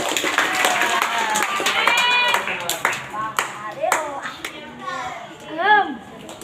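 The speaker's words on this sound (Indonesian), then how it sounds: "kita kasih tepuk tangan buat Bang Fadil" Clapping from a group of children and adults in a classroom-like gathering, honouring a man called Bang Fadil; a brief burst of hand claps mixed with children's voices and chatter, fading into talk.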